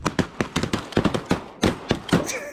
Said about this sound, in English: Is it him shooting ducks again?